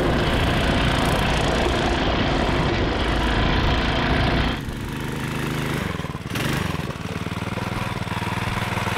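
A Tecumseh small-engine go-kart runs on a motocross track, its loud, steady engine drone dipping briefly midway as the carburetor stumbles over a bump, then picking back up.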